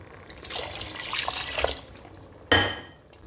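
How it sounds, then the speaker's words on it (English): Water is poured into a pot of frying meat, a continuous watery rush followed by a sudden loud sizzle and splash that fades out. "then I will add water"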